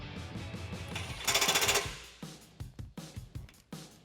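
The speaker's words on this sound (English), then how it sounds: "Tighten down the nut at the back of your bumper." Wrench and 17mm socket tightening the nut at the back of a Jeep Wrangler bumper during a winch install: a loud burst of rapid ratcheting clicks, then a series of separate metallic clicks and knocks, close up.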